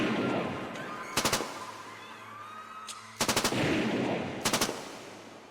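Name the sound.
military gunfire in horror story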